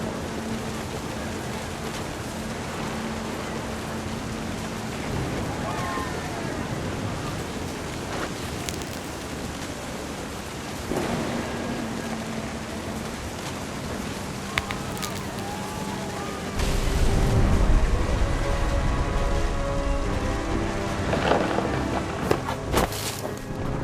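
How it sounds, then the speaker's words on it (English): Steady rain pours through a stormy scene in What Remains of Edith Finch, with low rumbles of thunder and a heavier burst of rain and wind near the end, and a narrator's voice speaking over it. "Thunder sounded much too close and full of angry power."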